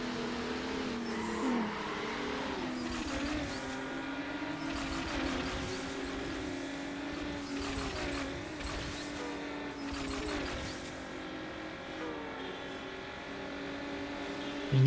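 Nissan 240SX race car in Need for Speed Underground, its engine droning steadily with rising and falling revs throughout, loud and continuous with music-like tonal layers mixed in.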